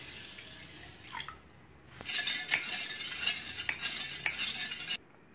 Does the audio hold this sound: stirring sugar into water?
yes